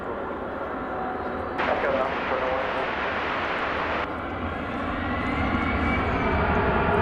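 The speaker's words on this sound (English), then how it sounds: "It's a 787-9 Dreamliner." Boeing 787-9 Dreamliner jet airliner at DFW Airport, a sustained engine roar rising into a brighter rushing surge midway before settling back to a steady drone.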